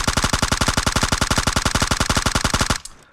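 A machine gun in PUBG Mobile fires a long, loud, evenly spaced burst of about thirty rapid shots, then stops abruptly into near silence.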